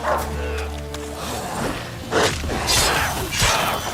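Dog barks from The Witcher 3 played on PS5, several loud, close, sharp barks in a rough rhythm over game ambience and low mechanical rumble.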